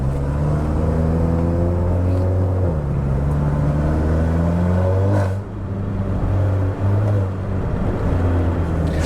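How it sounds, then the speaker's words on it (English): Revving engine of a tuned Hyundai Veloster N DCT with a Boomba Racing blow-off valve, loud and close, with rising and falling rev sweeps and a brief drop near the middle, no talking. "Let me show you guys the blow-off valve sound."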